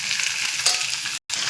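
Cabbage with turmeric fries in a hot spiced-oil tempering, a close, continuous sizzle with a brief drop to silence near the end.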